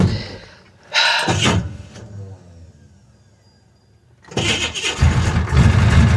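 A big-block 427 V8 with a failing starter cranks in bursts, falls quiet, then catches and runs loud and rough close by, its steady roar filling the end with no talk over it.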